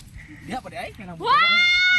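Talk in the foreground on a rainy mountain hike at Mount Talamitam, then a loud, drawn-out goat bleat rings out close by, a single sustained nasal cry.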